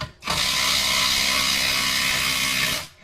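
Parkside cordless drill on a partly drained 4 Ah battery driving a screw, one continuous whirring run of about two and a half seconds, close and fairly loud, stopping abruptly before the screw is fully seated.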